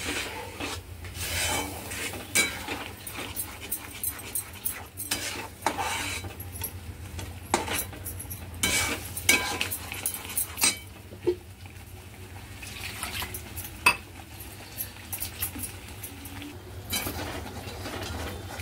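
Repeated scraping and rubbing of a utensil against a pan stirring cashew masala gravy on high heat, irregular strokes over a low steady hum, no talking.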